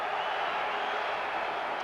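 A sellout stadium crowd at an Aston Villa v Arsenal League Cup semi-final roars as a steady, broad wash of noise, distant and continuous for a couple of seconds.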